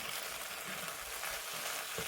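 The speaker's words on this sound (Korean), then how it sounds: "고기와 양념장을 골고루 섞고 고추를 넣고 섞어줍니다" Pork and bok choy sizzle in a pan with sauce and chili peppers as they are stir-fried. A close, continuous hiss of frying carries faint stirring scrapes, with no talking.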